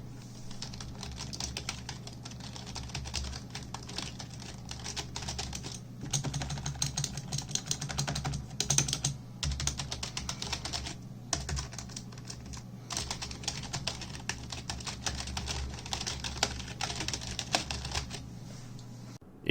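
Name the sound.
typing on Razer Cynosa Pro keyboard, recorded with phone mic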